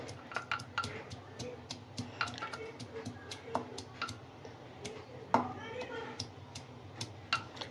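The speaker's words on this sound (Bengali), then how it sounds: "এই ভাজিটার জন্য আমি রসুন আর পেঁয়াজটাকে থেতো করে নিচ্ছি" Garlic and onion are crushed for lau shak bhaji, giving a quick, irregular series of close, sharp tapping and knocking strikes with small metallic clicks, moderately quiet, over several seconds.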